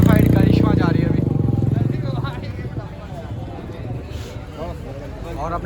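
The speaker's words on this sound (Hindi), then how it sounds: "मॉडिफाइड करिश्मा जा रही है अभी।" Modified Bajaj Karizma motorcycle riding past: its engine is loudest at first, then fades as it moves away, while people talk nearby.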